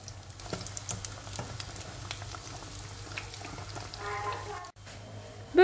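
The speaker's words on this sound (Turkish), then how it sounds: "Ve hazırlamış olduğum böreklerimi yağda kızartmaya başlıyorum." Börek pastries frying in oil in a pan give a steady low bubbling sizzle with faint crackles throughout, moderately loud and close, with no talk over it.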